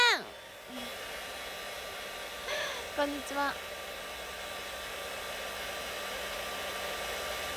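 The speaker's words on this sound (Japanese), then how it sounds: "爪を乾かしているよ。" A hair dryer drying freshly done nails blows a steady, close, continuous hiss throughout, while someone speaks briefly over it near the start.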